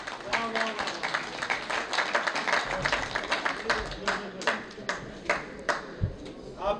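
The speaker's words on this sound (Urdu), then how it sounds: "اپنے لیے تالیاں بجائیے" Audience clapping at an Urdu poetry recital (mushaira) in Dallas, with someone speaking over the applause throughout.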